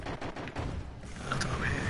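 Bursts of gunfire in the Call of Duty: Infinite Warfare beta, sharp repeated shots layered with mechanical game noise, loud and steady across the short clip.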